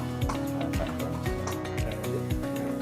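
Water splashes and trickles steadily as a racehorse filly is hosed down in hot weather, close and continuous over a constant tonal background hum.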